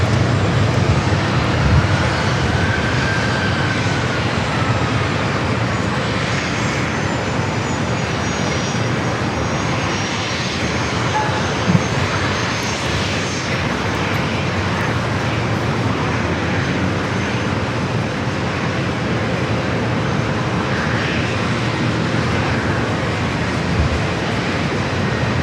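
A Southwest Airlines jet departs San Diego Airport, a loud, sustained roar of engine noise that holds steady for the whole stretch without talk.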